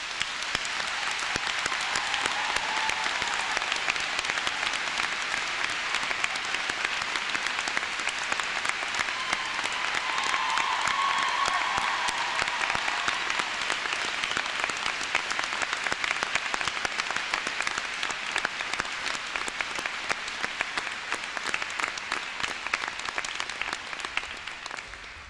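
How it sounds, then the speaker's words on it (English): Sustained audience applause at a college commencement ceremony, steady and dense from start to finish for about twenty-five seconds, with no speech over it. "Please join us in welcoming her with a round of applause."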